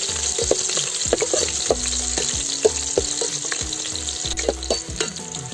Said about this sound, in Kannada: ಈರುಳ್ಳಿ ಹಾಕಿದ್ದೀನಿ, ಒಂದು ಈರುಳ್ಳಿ ಫ್ರೈ ಮಾಡ್ಕೊತಾ ಇದ್ದೀನಿ.